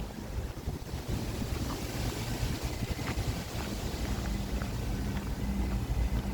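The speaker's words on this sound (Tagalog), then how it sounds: "Yung hangin po." Cold wind blows steadily outdoors on a hunting trip, a dense broadband rushing that stays even and fairly loud for the whole stretch, with no talk over it.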